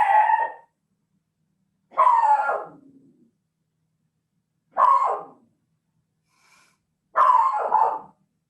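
A dog sounds off indoors in four spaced, short barking bursts with gruff low edges, close and fairly loud, separated by silent gaps and with no talking.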